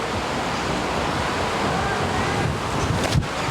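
Strong gusting wind at Cutter Park outdoor disc golf course in Norfolk, a steady broad roar buffeting the microphone throughout, with a slightly rougher gust near the end and no talking.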